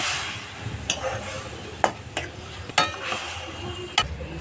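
Mango pieces frying in oil in a pan for mango chutney, a soft steady sizzle broken by several sharp clinks and scrapes of a spoon against the pan.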